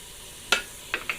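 Jackfruit stirred in a pan, three short scraping strokes with a light sizzle over a faint background hiss, close and brief.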